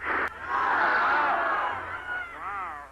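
A large crowd at a Portland religious crusade roars and cheers together in one sustained, swelling shout, loud and close, fading slightly toward the end.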